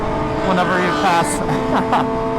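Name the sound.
Aprilia motorcycle engine revving under a bridge or tunnel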